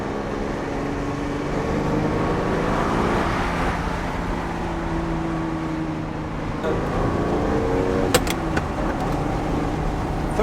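A sports car accelerates hard while being driven, engine note rising steadily through the gears with a brief shift dip, heard from inside the cabin with continuous road and wind noise.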